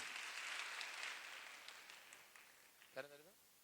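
An audience claps for a first-prize vote at an Onam stage show, the applause loud at first and steadily fading, followed by a brief spoken voice near the end.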